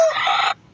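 A single chicken lets out one short, loud, close cluck-like call lasting about half a second, then quiet follows.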